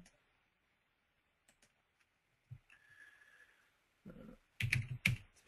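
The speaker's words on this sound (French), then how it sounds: "Quand je tape du texte" Text is typed on a computer keyboard, producing sparse quiet clicks and then a quick cluster of louder keystrokes near the end, with faint speech-like murmuring in between.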